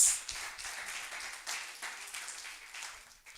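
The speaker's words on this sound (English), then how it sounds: "Let's give him a round of applause." Applause from the audience at a regional competition round, a soft, fairly distant patter of many hands that swells and dips slightly before tapering off.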